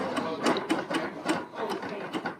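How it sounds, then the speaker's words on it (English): A BERNINA Q Series sit-down quilting machine stitches a few stitches forward, producing a quick, rhythmic run of mechanical needle pulses that is close and fairly loud, with no talking. "I'm going to have you just stitch a few stitches forward towards you"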